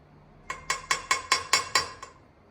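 Seven evenly spaced metallic clinks ring out, a spoon tapping against the rim of a cooker pot as ghee is added for mutton biryani, close and clear with no talk.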